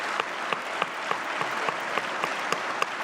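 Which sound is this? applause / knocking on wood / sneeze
applause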